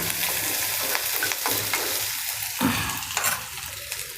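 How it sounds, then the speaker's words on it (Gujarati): Ginger-garlic paste hits hot oil in a pan and is stirred, giving a steady loud sizzle with scraping spoon strokes throughout, no voices. "આદુની પેસ્ટ નાખશું। આદુ અને લસણ બે મેં મિક્સ લીધું છે।"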